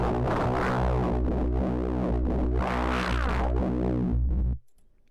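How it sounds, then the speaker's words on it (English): A Vital software synth patch runs through hard clip distortion, giving a loud, harsh, buzzing sustained tone with swelling chorus-like movement that cuts off abruptly near the end. "Yeah, it's not the nicest sounding distortion."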